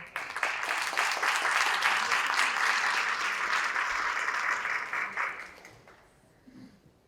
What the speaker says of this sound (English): Please give a round of applause for Zainab.